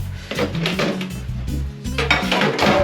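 Dirty dishes and utensils clatter as they are washed, with repeated clinks and scrapes of pots, plates and cutlery, close and fairly steady over a few seconds.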